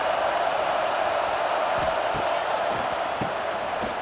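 A stadium crowd roaring in the College Football 26 video game during an LSU vs. Georgia simulation, a steady, dense wash of cheering that holds at an even level for several seconds.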